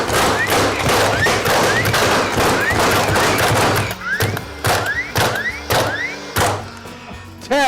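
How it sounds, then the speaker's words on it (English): Three nail guns fire in quick succession for a side-by-side comparison, giving a rapid string of sharp, loud pneumatic cracks and thumps. The volleys are dense at first, then thin into separate single shots with short gaps between them. "So we are going to compare these three nailers."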